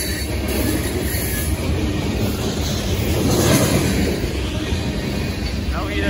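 A freight train carrying coal hoppers rolls past in cold weather, a steady, loud rumble of railcars with wheel noise filling the whole stretch and swelling slightly midway; someone speaks faintly underneath.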